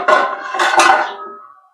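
Metal lid set down onto a pot on a kitchen stove, giving a few close clattering clanks in quick succession that ring briefly and fade.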